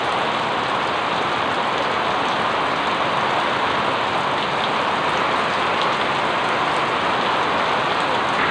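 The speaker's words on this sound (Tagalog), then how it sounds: "Ang lakas na ng ulan." Heavy rain pours steadily and loudly, a dense unbroken hiss of drops drumming on surfaces with no voices.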